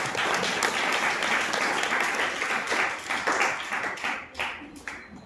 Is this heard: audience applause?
yes